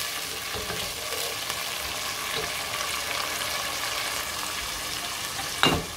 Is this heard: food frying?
yes